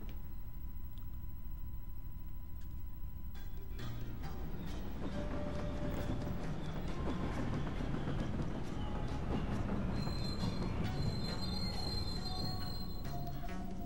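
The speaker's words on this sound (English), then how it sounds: "This train will soon make a brief scheduled stop at Riverside Station." Train in Paper Mario: The Thousand-Year Door, a steady clattering rumble of wheels on rails that grows louder and fuller after a few seconds, with faint squeals and metallic clanks on top and no voices.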